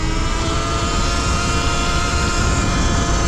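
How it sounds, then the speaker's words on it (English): A 2023 Surron electric dirt bike climbs a hill at full throttle, a loud, steady, close whine and rushing roar with heavy wind noise that stays constant throughout. "Max throttle hill climb, 53 kilometers per hour, not bad."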